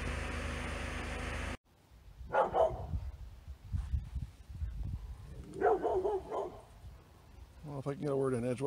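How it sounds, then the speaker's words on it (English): Dogs bark in short bursts at a distance, a few separate volleys, mixed with some whining and a voice speaking at the end. "if I can get a word in edgewise between the barking dogs"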